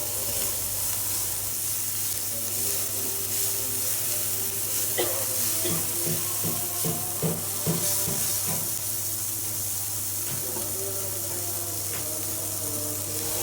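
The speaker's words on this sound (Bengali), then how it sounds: "পেঁয়াজ কাঁচামরিচ ভাজাটাকে হালকা ব্রাউন করে ভেজে নিচ্ছি" Onions and green chilies frying over low heat until light brown make a steady, even sizzle with a series of rhythmic stirring scrapes in the middle, under a constant low hum.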